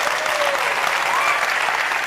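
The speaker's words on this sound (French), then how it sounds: "est-ce qu'on peut l'applaudir très très fort?" A festival crowd applauds steadily, a dense wash of clapping that stays even and fairly loud throughout.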